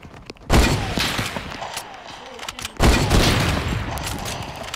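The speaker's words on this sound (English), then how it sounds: "There's a gunfight outside." Video game gunfight with two loud bursts of sustained gunfire, each sharp onset trailing into rattling volleys and echoing shots that fill the scene.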